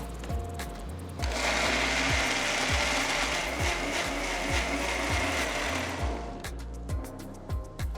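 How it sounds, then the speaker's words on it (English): A mixer grinder whirs steadily as it grinds onions, chilies, garlic, ginger and coriander leaves into a paste. A few clicks at the start give way to about five seconds of continuous grinding, which then winds down. "Grind everything to a nice fine paste."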